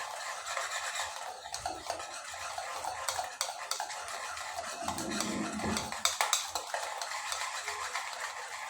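A spoon stirs salt into a dahi vada mixture in a bowl, producing a steady, close scraping and swishing that runs throughout, with scattered clinks of utensil against the bowl.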